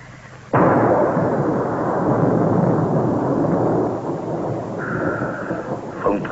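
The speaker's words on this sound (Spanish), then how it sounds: "¿Fue un trueno real?" Thunder in a wartime drama breaks in abruptly as a loud, sustained rumble that rolls on for several seconds, dipping slightly near the end under a faint higher tone.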